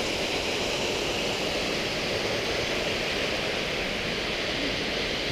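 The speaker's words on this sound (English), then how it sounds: "that's the waterfall" A canyon waterfall in the Zion-Bryce area roars in a steady, unbroken rush of broadband water noise, constant in level throughout, with no voices.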